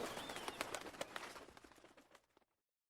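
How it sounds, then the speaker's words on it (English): Birds in a rainforest canopy, part of an Age of Empires 2 cutscene, coo and chirp with flapping wings rising from the trees, a dense busy flurry that fades out after about two and a half seconds. "Birds in the rainforest canopy took to the sky, eager to be away from the violence that was to come."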